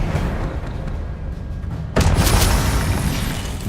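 Confringo spell explosions in Hogwarts Legacy: a low rumbling ambience breaks into a single sudden booming blast about halfway through, followed by a loud, sustained crackling roar of fire and debris.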